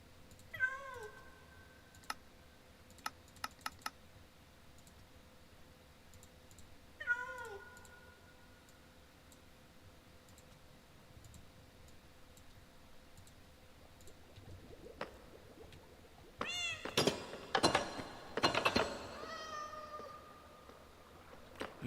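A cat in a video game meows in short cries early on, then a louder burst of repeated yowls near the end, over faint clicking and quiet background.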